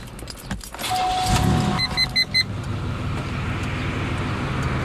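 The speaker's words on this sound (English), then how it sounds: "Now let me turn the car on and see if this thing does anything." A 1988 Pontiac Bonneville SSE being started: keys jingle near the ignition, a short series of warning chimes sounds, and then the engine settles into a steady, fairly loud interior rumble.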